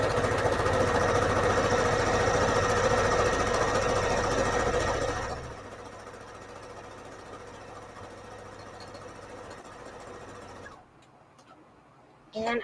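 A sewing machine runs a straight stitch down a soft fabric journal cover stiffened with Peltex interfacing, a loud steady mechanical whir for about five seconds, then quieter motor hum and a brief pause before it picks up again.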